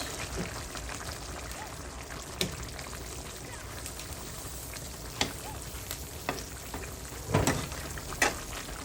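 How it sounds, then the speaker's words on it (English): Jamaican brown stew fish cooking in a pot, with a soft, steady bubbling sizzle under a few light knocks and clinks, fairly quiet and close. "Let's cover this back up, let it simmer a little bit more"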